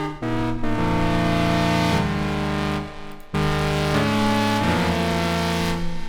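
A classic techno chord stab synth preset built in Ableton with distortion and reverb plays loud, sustained chords in changing voicings, each cut off briefly before the next stab lands, with no voices over it.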